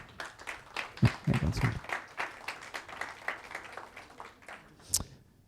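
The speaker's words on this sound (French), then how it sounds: "Vous pouvez les applaudir." Audience applause for three speakers at an FCD and GS1 France seminar round table, a dense, moderately faint patter of many hands that swells early, continues evenly for several seconds and ends with a final sharp clap.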